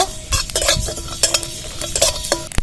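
Cumin and coriander fry in a wok with a close sizzle, while a spatula stirs and scrapes in quick irregular strokes, several sharp metallic clicks punctuating the crackle.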